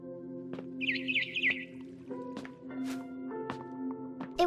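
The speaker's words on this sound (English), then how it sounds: "Then I heard chirping outside my window." A barn swallow in the video game What Remains of Edith Finch chirps in quick high, warbling bursts over a soft ambient backdrop, with a few light thumps and knocks scattered through.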